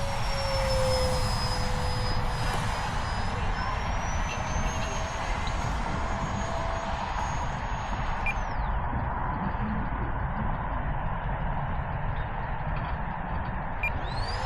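An E-flite Habu SS radio-controlled electric ducted-fan jet flies, giving a constant loud whooshing roar with a high whine that drops in pitch as it passes, with no talking, outdoors at a flying field.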